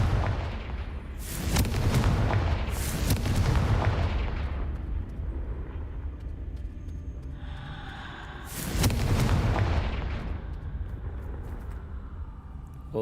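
A Confringo explosion spell cast in the Hogwarts Legacy video game, with loud booming blasts around 1.5, 3 and 9 seconds over a rumbling game soundscape.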